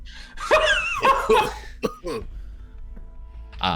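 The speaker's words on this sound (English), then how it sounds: "I'm gonna start coughing" A voice sputters and coughs in a few rough, strained bursts, close and fairly loud, then trails off into quiet breathing.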